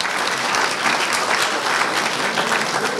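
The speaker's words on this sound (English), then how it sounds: "Let's give them a big round of applause and our volunteers who helped as well" A community neighborhood meeting audience gives a big, sustained round of applause for staff and volunteers, with loud, dense clapping filling the room throughout.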